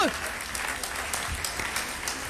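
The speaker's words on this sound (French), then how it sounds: "Acclamez pour eux." Applause from an audience at a 1998 church camp gathering in Winneba, Ghana, a steady wash of many hands clapping heard from a distance, carrying on evenly with a few slightly sharper bursts.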